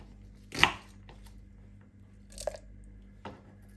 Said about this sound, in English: you don't need to chop it small because the soup maker does that for you